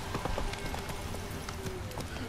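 Horse hooves gallop in The Witcher 3: Wild Hunt, a steady rapid clip-clop running through the whole stretch under game music and ambience, with a faint voice in the mix.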